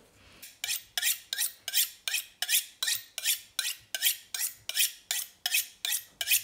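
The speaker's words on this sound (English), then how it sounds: "Let's do some honing." A kitchen knife is honed with about fourteen quick, evenly spaced rasping strokes along a steel. Each stroke is a close, crisp scrape, and the strokes form a steady rhythm.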